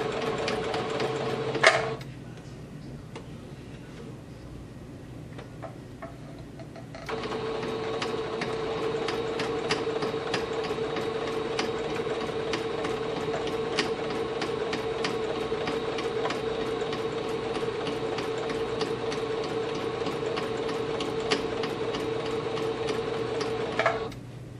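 Sewing machine running steadily as it sews a stay stitch half an inch from the raw edge around the curve of a pencil skirt, with a brief pause early on before the continuous whirring motor and needle resumes, close and alone.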